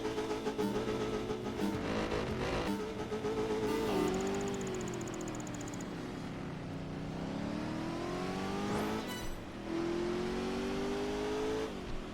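Corvette engine in a Project Gotham Racing 4 street race, revving hard through quick, short gear shifts with rising and falling pitch sweeps, loud and continuous, with brief higher whines and no talking.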